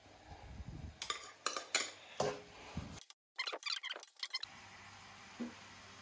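Pork stirred into a garlic and ginger mixture in a pan, with clattering utensil scrapes and clinks against the metal over a light sizzle, close and intermittent, no talking.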